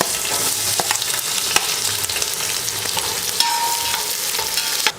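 Sliced onions frying in oil with cardamom, cinnamon, cloves and bay leaves for a mushroom biryani give off a dense, continuous sizzle, broken by occasional scraping stirs, loud and close.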